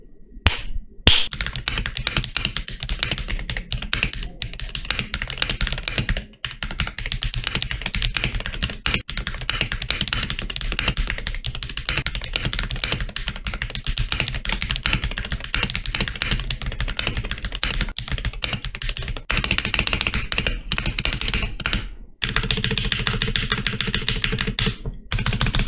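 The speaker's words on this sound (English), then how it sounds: "let's get into the sound test of the keyboard" Continuous fast typing on a MelGeek Made68 Pro mechanical keyboard, loud and close, dense clacking keystrokes with only brief pauses, and no voice.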